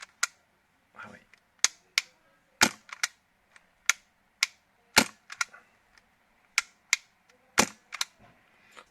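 An airsoft MK23 pistol fitted with a silencer and gas magazine fires a series of sharp, close snapping shots at uneven intervals, with quiet pauses and some brief speech between shots.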